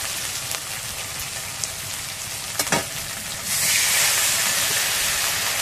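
Hot spiced oil for a Bengali bhola fish curry crackles in a pan, then water is poured in and the sizzle surges into a loud, sustained hiss.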